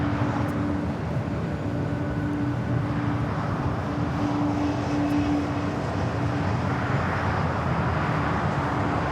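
An airliner departing runway 25 right at Los Angeles International Airport gives a steady broadband engine roar with a low hum, moderately loud and continuous throughout, with no voices.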